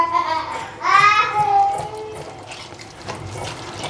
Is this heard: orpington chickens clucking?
no